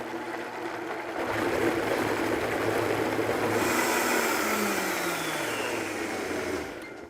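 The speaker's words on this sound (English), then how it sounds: "we're just going to cap our blender and just start blending all the ingredients together until it's well incorporated" A kitchen blender runs steadily, whirring for about seven seconds as it purées tomato basil sauce ingredients for a vegan spinach lasagna. The motor note is loud and even, then winds down at the end.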